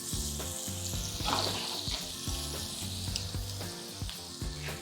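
Flour-dusted shrimp fry in a hot pan with a busy, crackling sizzle, close and fairly loud, and quick spits and pops keep bursting through the hiss.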